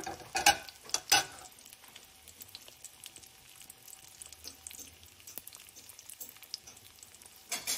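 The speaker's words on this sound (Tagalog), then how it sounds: "Batch na tayo ng ating pagpiprito" Thin pieces of chicken katsu fry in batches over a medium flame, giving a steady close sizzle, with a couple of sharp utensil clinks near the start and another at the end.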